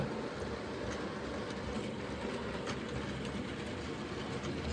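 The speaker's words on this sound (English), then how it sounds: "listening to them rumbling past the junction" Model railway trains rumble past a junction on an indoor layout, a steady close low rolling roar with faint clicking over it and no speech.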